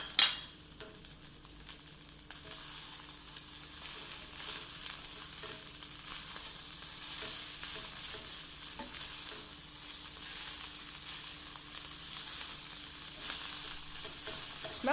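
Pesto fried rice stirred in a sizzling pan, a steady bright hiss of frying with occasional utensil scrapes and a sharp clack at the start, close and continuous.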